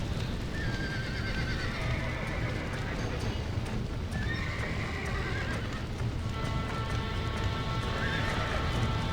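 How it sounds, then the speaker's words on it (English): Horses in the Red Dead Redemption video game neigh and whinny repeatedly over a running clatter of galloping hooves, loud and close, with faint voices in the background. "Now get the horses out!"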